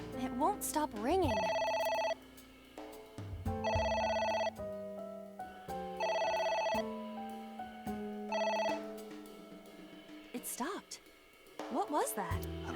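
A telephone rings in AI: The Somnium Files, with four loud, evenly spaced bursts of electronic trilling. Short voice-like sounds fall between the rings and after them.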